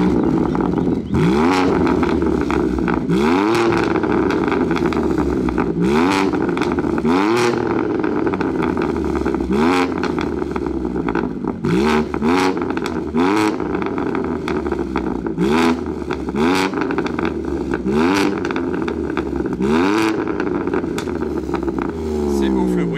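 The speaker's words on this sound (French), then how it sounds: "Et au-delà du Bird, elle fait vraiment un très bon bruit, sa M3." A modified BMW M3 with a non-original aftermarket exhaust revs repeatedly, about ten rising and falling engine sweeps at a steady rhythm, loud and close with a vibrating, rasping note.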